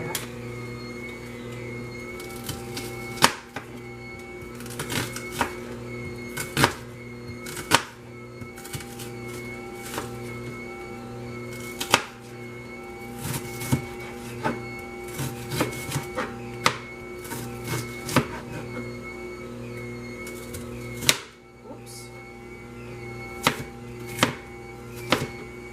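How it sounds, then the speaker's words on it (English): A knife chops half an onion on a board, a long run of sharp, irregular close taps over a steady low background hum, with no talking. "So I've got half of an onion left over here, so I'm going to cut that up."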